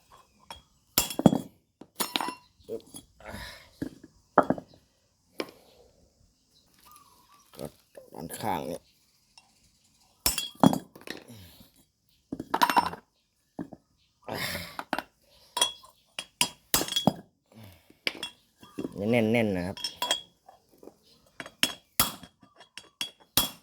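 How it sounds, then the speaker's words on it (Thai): Hammer strikes tap the side of a front wheel bearing on an Isuzu, giving irregular sharp metallic knocks spread throughout, often alone and sometimes between a man's spoken remarks. "นี่แล้วก็ตอกด้านข้างนี้"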